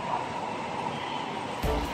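Train noise at the elevated MRT station in Pasay, Manila, a steady rumble with a louder low thump near the end, heard alone without talk.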